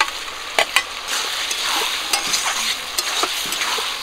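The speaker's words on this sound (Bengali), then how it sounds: "পটল আর আলুটা দিয়ে আবারও কিছুক্ষণ কষিয়ে দেব" Pointed gourd and potato, already fried, being sautéed with spices and a fish head in a pan: a steady close sizzle broken by sharp spoon scrapes and clinks at irregular intervals, with no talking.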